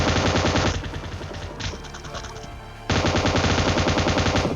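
M249 machine gun in PUBG Mobile Lite firing in loud, rapid sustained bursts, a long stream of shots, a brief lull with quieter distant-sounding fire, then another dense burst resuming.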